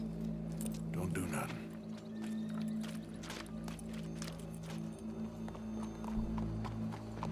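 Horse hooves clip-clop steadily in Red Dead Redemption 2, a rhythmic series of soft thuds under ongoing talk and a constant background hum.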